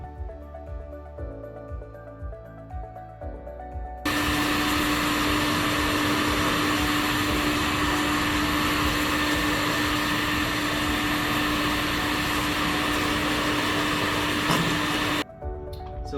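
A DB24 24-gallon wet and dry shop vacuum switches on after a few seconds of quiet handling noise, then runs with a loud, steady motor whine before cutting off near the end.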